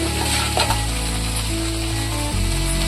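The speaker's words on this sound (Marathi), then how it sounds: "तेलामध्ये छान परतून घेऊ।" Okra frying in hot oil in a pan while being stirred, giving a loud continuous sizzle up close with scraping stirring strokes throughout.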